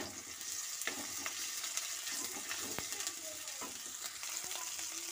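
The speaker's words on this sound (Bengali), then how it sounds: "আদাটাকে আমি ভালো করে ভেজে নেব" Ginger frying in hot oil for an egg paneer curry, a steady close sizzle with crackling pops and scattered clicks of stirring throughout.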